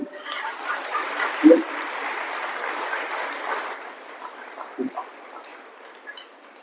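Clapping from an audience at a spiritual talk on positive thinking, a soft, diffuse patter that fades out after about four seconds, leaving faint scattered sounds at a distance.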